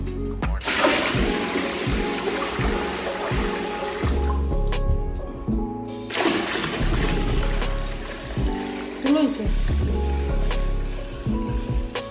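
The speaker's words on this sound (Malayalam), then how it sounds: "ഞാൻ അടിയിൽ നിന്ന് നല്ല വെള്ളം വെള്ളിലോട്ട് കോരിക്കൊണ്ട് വരുവാണ്." Water is scooped up and poured into a vessel in repeated splashing pours and gurgles, close and clear, with short pauses between scoops.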